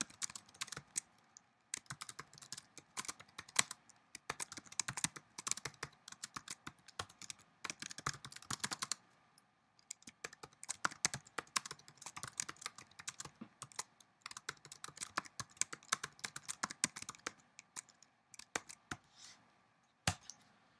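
Code being typed on a computer keyboard: quick, crisp key clicks in bursts with brief pauses, close and quiet, with no talking.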